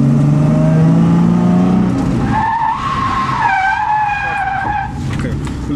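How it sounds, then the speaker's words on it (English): Car drifting into a corner on a track with the handbrake, a loud engine drone giving way to squealing, sliding tires with wavering pitch, close by and continuous. "handbrake, slide it in."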